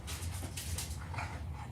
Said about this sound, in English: these dogs are driving me crazy